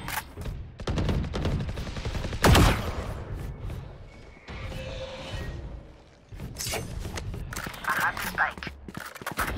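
Gunfire in Valorant, rapid bursts of shots and impacts mixed with game effects, with a player talking over the action throughout.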